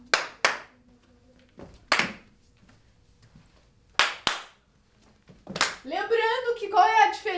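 Sharp hand claps during a fifth-grade physical education class, heard as a few separate single and double claps spaced across the moment, with a voice speaking near the end.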